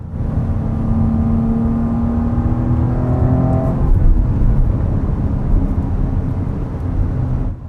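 A Porsche Cayenne luxury SUV's engine roars loudly and steadily as it accelerates, pitch climbing then dropping at a downshift before settling into a deep continuous rumble, close and dominant, with no talk.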